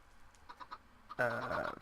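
Minecraft chickens crammed together in a Nether chicken farm, a few faint scattered clucks followed by a louder, closer burst of clucking near the end.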